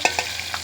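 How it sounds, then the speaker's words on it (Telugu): Onions hitting hot cold-pressed oil in a pan give a brief sizzle with a few quick stirring clicks, close and alone. "నూనె మరిగింది కాబట్టి మనం ఉల్లిపాయలు వేసుకోవచ్చు"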